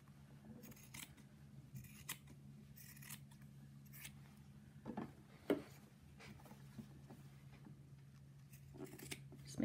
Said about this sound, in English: trim your corners at an angle so that you don't have a lot of bulky stuff there